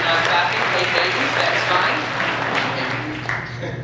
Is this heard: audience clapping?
yes